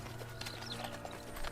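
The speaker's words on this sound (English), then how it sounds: "Crisp leaves crunched under the horses' hooves" Horses' hooves clop softly over crisp autumn leaves on a trail, a quiet uneven rhythm of steps with faint crunching, no voices.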